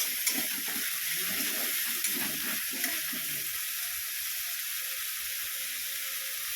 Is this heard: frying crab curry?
yes